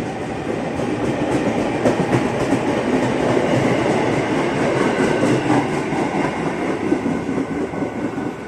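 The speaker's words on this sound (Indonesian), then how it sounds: "Keretanya segera berangkat kembali jalur 2 tujuan Bogor." A KRL electric commuter train pulls out of Citayam station late at night toward Bogor, a steady, loud, close rumble with rhythmic clickety-clack of wheels over rail joints and no talk.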